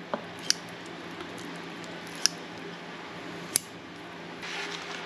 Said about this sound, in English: So I cut up both lobster meat.